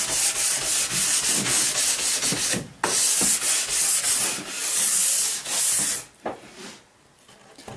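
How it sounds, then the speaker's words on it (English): A nylon brush polishes a ski after a fluoro wax treatment, making brisk back-and-forth scrubbing strokes in a steady, loud rhythm that briefly pauses and then trails off. "I'll polish it with a nylon brush, and here's where I'll just go back and forth"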